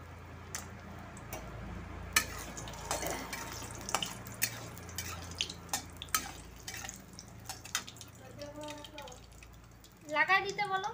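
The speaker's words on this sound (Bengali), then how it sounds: "বড়িটা ভেজে নিচ্ছি।" Bori lentil dumplings fry in a pan, a faint sizzle under scattered clicks and taps of utensils, with a voice talking briefly near the end.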